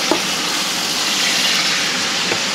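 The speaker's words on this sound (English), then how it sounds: "It's just like frying hamburgers in a sense." Beef fat renders into tallow in a pan, a steady, dense frying sizzle held at an even level throughout, close by with no voices.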